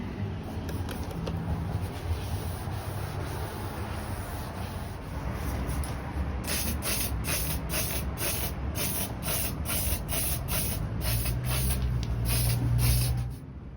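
Spray paint is applied to a machinist's steel toolbox that was cleaned with wax and grease remover, heard as a steady close hiss that gives way to a series of short, regular spray bursts.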